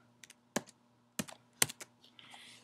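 Keys on a computer keyboard tapped in short, irregular clusters while a Wi-Fi password is entered during setup of an AirPort Express, soft and close with low background hum.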